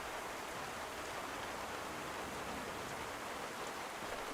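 Steady rain falls in a survival game, a continuous soft hiss of drops with no voices and no change in level.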